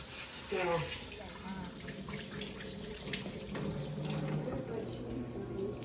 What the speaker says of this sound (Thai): อันก็จะเป็นห้องครัวนะจ๊ะ กำลังล้างอยู่นะจ๊ะ